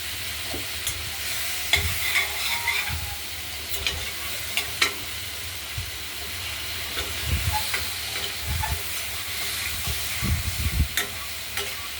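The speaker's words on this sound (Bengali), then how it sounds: "এগুলোকে একটু ভাজা ভাজা করে নেব।" Vegetables with salt and turmeric fry in a wok with a continuous close sizzle. Intermittent scraping clatters from stirring punctuate the sizzle, and no one speaks.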